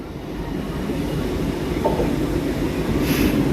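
Train pulled by an ALCO diesel locomotive at night on the Velankanni to Ernakulam run, a steady rolling rumble of wheels and carriages, moderately loud and continuous with no talking.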